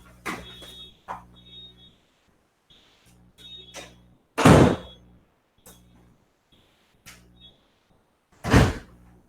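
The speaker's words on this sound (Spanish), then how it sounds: "déjenme cierro la puerta" A door thuds shut with a couple of sharp, loud knocks and bangs spaced apart in a quiet room, with faint shuffling between them.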